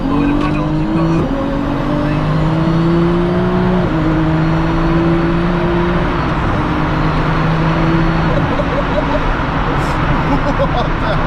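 Dual-clutch Toyota Supra MK4 downshifting and revving, loud engine note stepping in pitch with several shift changes, tire squeal and cabin noise mixed in, with talk over it.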